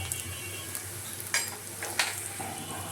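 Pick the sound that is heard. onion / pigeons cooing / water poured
onion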